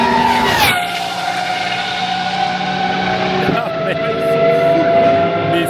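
A Praga race car is driven flat out on the Le Castellet circuit, its engine note rising and shifting as it passes close by, with a sharp transient and steady high-pitched whine. Voices can be heard around it.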